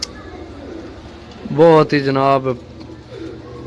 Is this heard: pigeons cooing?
yes